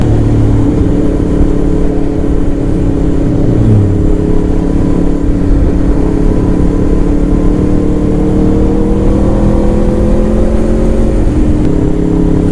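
An Aprilia RSV4 RF motorcycle engine at speed on a country road, a loud, steady, droning roar with rising and falling pitch as it accelerates, mixed with heavy wind buffeting throughout.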